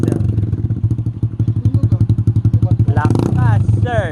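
A motorcycle fitted with a Yoshimura Alpha muffler with the silencer removed, its loud exhaust close by and throbbing in rapid, choppy pulses as the throttle is blipped, with voices calling out near the end.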